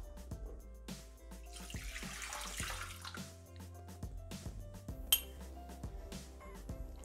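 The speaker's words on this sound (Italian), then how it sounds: "Iniziamo la ricetta mettendo all'interno del boccale l'acqua" Water poured into a Thermomix bowl in a home kitchen while starting a pizza dough, with splashing and clinks of glass and utensils, close and fairly quiet.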